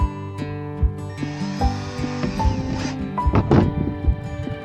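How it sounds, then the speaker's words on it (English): A power drill whines up briefly as it bores a hole into a kayak, with a few knocks and clunks around it, close by. "Press that around, hold it in place, and I'll drill my first hole."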